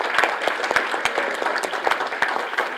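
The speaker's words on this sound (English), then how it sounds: "Let's have a big applause first for Elder." Audience at a school quiz competition final claps steadily for a team, a dense patter of many hands at moderate distance with a few sharper claps standing out.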